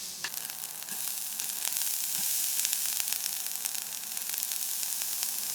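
Beef bites searing in extra virgin olive oil in a very hot skillet give a steady, bright sizzle and crackle with scattered pops. It runs continuously throughout, close but fairly soft, and nobody speaks.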